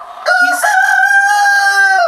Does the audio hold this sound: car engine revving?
no